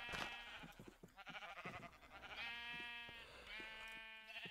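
Minecraft sheep bleat several times in quick succession, wavering game-sound cries that overlap and repeat at close range, faint in level.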